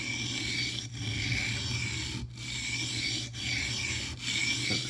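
Steady back-and-forth rasping as a mini cleaver's bevel is scrubbed across a sharpening stone, with brief pauses between strokes, close and continuous.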